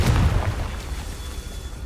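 A Confringo blast spell in Hogwarts Legacy on hard difficulty, heard as one loud, low boom at the start that fades into a rumbling tail.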